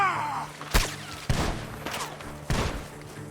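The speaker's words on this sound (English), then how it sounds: "The gunshots are coming from that barn." Gunfire in Red Dead Redemption 2 comes from a barn: three or four sharp shots spaced about half a second to a second apart, each with a short echoing tail, over low background rumble.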